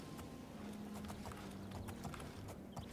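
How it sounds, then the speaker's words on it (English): A horse gallops in the video game Oblivion, a steady rapid clip-clop of hooves at close range over a constant background wash, with no talking. "Run, you horse! What are you doing? What are you doing, horse?"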